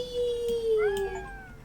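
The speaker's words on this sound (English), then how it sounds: "That's my cat." A pet cat gives a single drawn-out meow that bends downward in pitch, fairly close and moderately quiet, with faint background sound and no talk.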